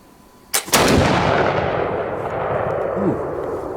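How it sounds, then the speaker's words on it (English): A Kibler fowler muzzleloading shotgun loaded with 100 grains of powder and 2 ounces of number 6 shot fires once outdoors at a turkey target at 25 yards, giving a sharp, heavy blast with a long rolling echo. "We shoot at that thing's head at 25 yards."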